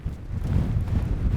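Blustery wind buffets an outdoor microphone near an edge, a continuous loud low rumble that keeps up steadily throughout.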